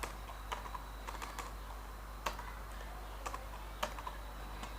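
Keys clack on a computer keyboard in short irregular bursts, each tap sharp and light, with pauses between runs of typing in a quiet room.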